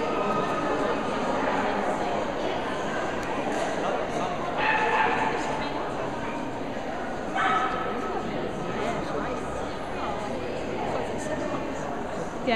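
A puppy gives a couple of short yipping barks amid background chatter and people talking nearby at a competition.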